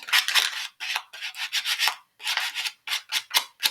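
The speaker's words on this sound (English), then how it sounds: "you could grab a bit of sandpaper and sand the edges a bit" Sandpaper rubbed along the edges of card gift tags, with close, scratchy rasping strokes in quick bursts separated by short pauses and no talking.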